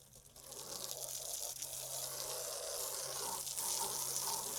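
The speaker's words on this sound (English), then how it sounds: "just give it a little rinse with some water" Water rinsing a boat hull to wash off a cleaning product, a steady close hiss and splash of running water that continues without a break.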